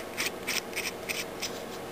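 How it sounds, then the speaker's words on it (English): A metal nut is spun down the threads of a 5/16 bolt, giving a series of short, quiet scraping rasps at an uneven rhythm, close by with no talk. "Run the nut down"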